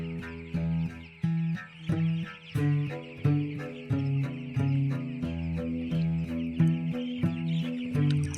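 Chickens on a poultry farm cluck in short, repeated bursts, several birds overlapping at a moderate distance in a continuous rhythmic chatter.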